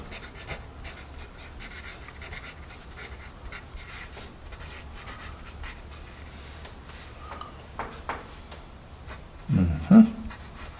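A General's Calendar No. 2 pencil writing on paper, giving a soft, steady scratching and rubbing that is fairly quiet and close, with a couple of louder knocks near the end.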